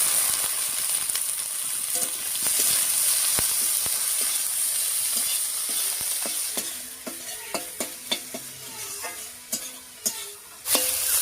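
Squeezed banana tree stem added to a pan of browned onions, frying with a loud continuous sizzle and hiss, with clinks and scrapes of stirring growing more frequent toward the end.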